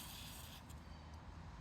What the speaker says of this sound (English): I'm gonna put a little silicone spray